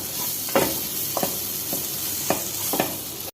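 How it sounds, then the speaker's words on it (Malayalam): A spoon scrapes through turmeric, pepper and garam masala in a hot frying pan for kothu chapathi, four distinct stirring strokes over a steady sizzle, close and fairly loud. "മഞ്ഞൾപ്പൊടി, കുരുമുളക് പൊടി, ഗരം മസാല, നന്നായിട്ട് മിക്സ് ചെയ്യണം."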